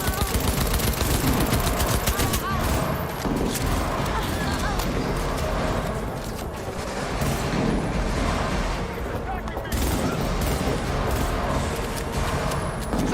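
Sustained automatic gunfire in the video game Cyberpunk 2077, loud rapid bursts rattling almost continuously for over ten seconds with brief dips, mixed with game voices and effects.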